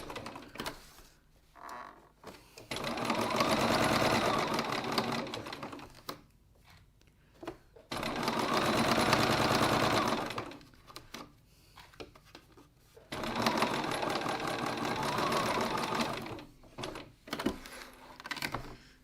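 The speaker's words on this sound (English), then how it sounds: "Now we've stitched that" A sewing machine stitches a leather wallet flap in three bursts of rapid mechanical chatter, each a few seconds long, separated by quiet pauses with small handling clicks.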